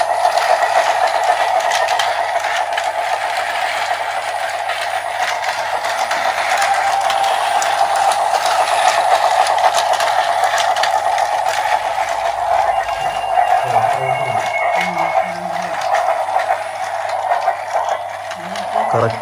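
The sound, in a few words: battery-powered toy train running on its track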